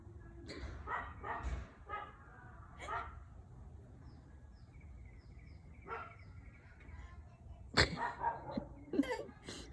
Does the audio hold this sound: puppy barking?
yes